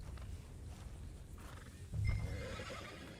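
A horse in Red Dead Redemption 2 gives a strong, close whinny that swells partway through, with faint hoof clops around it and no talking.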